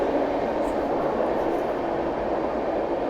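Steady, loud rumble of an Indian Humsafar Express passenger train departing, heard from on board as a continuous broadband roar with no talk over it.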